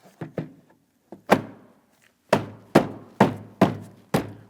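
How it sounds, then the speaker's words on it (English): A rear interior door panel on a 2003-2008 Toyota Matrix being tapped into place along the top edge: a series of sharp, close hollow thuds, irregular at first, then in a steady rhythm. "we're tapping down along the top"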